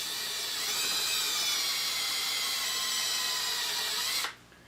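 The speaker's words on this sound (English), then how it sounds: "I'm running the drill backwards" A power drill runs in reverse into a mahogany guitar body during a PRS-style build, a steady high whine that holds for about four seconds, then stops abruptly, leaving quiet room tone.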